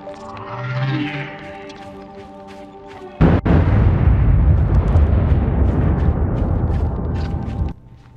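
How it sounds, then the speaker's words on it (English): A deep, loud explosion in the video game Planet Alpha. It comes in with a sharp boom after some quieter ambient tones, then gives way to a long, sustained rumble that fades out. "with that impressive explosion there"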